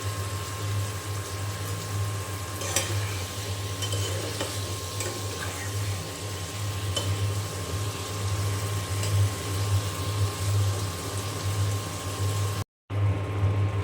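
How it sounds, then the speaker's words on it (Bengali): Fish cooks in a spiced masala in a pan, giving a steady low bubbling and sizzling with occasional light stirring, close and continuous with no talk. "মাছ রান্নাটা হচ্ছে"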